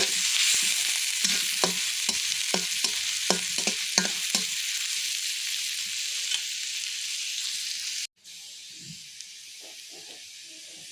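Hilsa fish pieces fry in hot oil with a steady sizzling hiss and scattered pops, then the sizzle cuts off sharply, leaving quiet handling noises.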